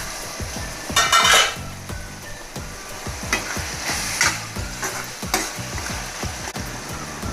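Tomatoes cook down in a pan once the lid is lifted, a steady sizzle mixed with repeated scraping and clinking as a spoon stirs against the metal. Two brighter bursts of hiss stand out near the start and middle.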